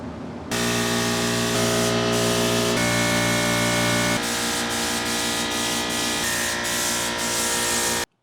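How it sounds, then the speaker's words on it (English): A spray gun applying Raptor bed liner to utility cabinets gives a loud, continuous hiss layered over a steady droning hum, running unbroken for several seconds before cutting off abruptly. "we're gonna mix up 3 bottles of this and we're gonna get to spraying"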